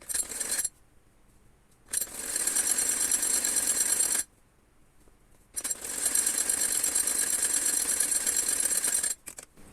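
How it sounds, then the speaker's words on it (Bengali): Sewing machine stitching the side seams of a baby frock, running in two long loud bursts separated by short pauses, close by with no talk. "তো আমি এখন সাইডের সেলাইগুলো দিব।"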